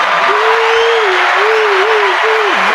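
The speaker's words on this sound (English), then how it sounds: "Let's give him some hand claps" A crowd gives a hand for a teacher with loud, dense, continuous clapping that runs unbroken from start to end, while a voice rings out above the claps.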